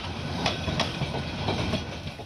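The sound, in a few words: train departing Kamalapur railway station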